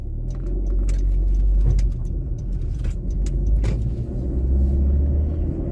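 A 2015 Honda Civic Hybrid with a CVT accelerates with a steady, rising engine rumble and no distinct gear shifts, heard from inside the car with faint interior rattles.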